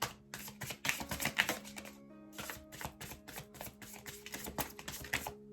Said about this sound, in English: Cards are really shuffling funny today.